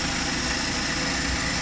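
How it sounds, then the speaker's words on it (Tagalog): Suzuki Every Wagon DA64W with a K6A engine idling after cleaning of the idle air control valve, a steady close mechanical hum with an even low throb and no talk. "Kung saan po yung magandang tunog ng ating makina"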